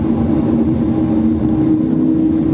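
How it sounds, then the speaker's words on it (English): A Lamborghini Huracan in sport mode sends out a steady low exhaust grumble while cruising, a constant droning rumble that stays loud and even throughout with no voices. "the exhaust sounds different. It's got a different kind of grumble."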